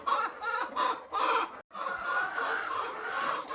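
Chickens on a homestead farm clucking in their coop during the morning egg collection, a close chorus of repeated clucks and calls with a brief drop-out midway.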